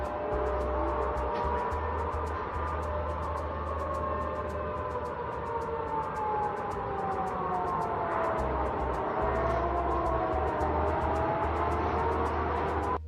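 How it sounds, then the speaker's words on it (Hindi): Air raid sirens in a Russian city at midnight wail, rising and falling slowly in the distance over a low continuous rumble, with sharp crackling clicks scattered throughout. "रूसी शहरों में आधी रात को सायरन बजने लगे।"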